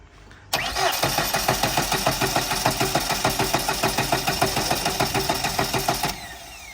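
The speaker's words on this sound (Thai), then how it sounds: "ติดเครื่องดู" A car with a weak, recently recharged battery cranks for about five and a half seconds at a mechanic's shop, a steady rhythmic churning of the starter that never catches, loud and close, with no voices.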